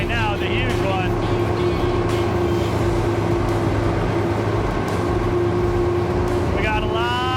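Tank engine at speed on a Minnesota tank-driving course, a loud steady mechanical drone with a low rumble and whining harmonics, constant throughout with occasional rising whines.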